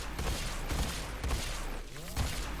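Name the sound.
Battacor rifle firing at Kuva Guardians in Warframe video game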